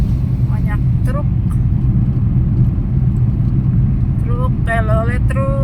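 Trucks rumble along an Indonesian toll road in a heavy, continuous low drone of passing engines, with people talking over the traffic noise.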